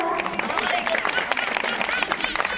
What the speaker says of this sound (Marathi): टाळ्या वाजवा जरा